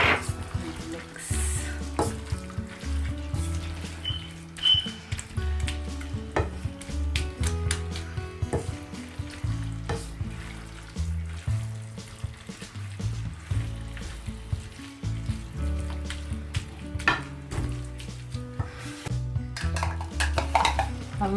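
Garam masala, coriander powder and other spices are stirred in a pan for lamb samosa filling, with repeated scraping and clinks of a utensil against the pan and faint sizzling underneath, continuous at moderate closeness.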